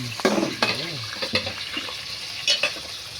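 Onion, garlic and mushroom sauté in oil in a pan, a quiet steady sizzle broken by a few scraping stirs, with a soft voice briefly heard.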